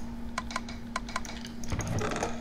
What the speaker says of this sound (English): you guys don't want to hear the keyboard